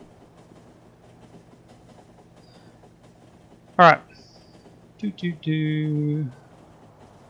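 A train in the video game Factorio runs with a sharp mechanical burst followed by a sustained tonal hum, clear over a quiet background while someone speaks briefly.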